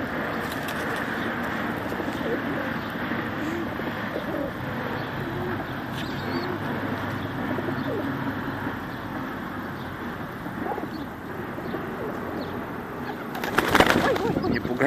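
Soft, low cooing of pigeons repeats throughout, with a rustle near the end and faint voices in the background, in Chelyabinsk.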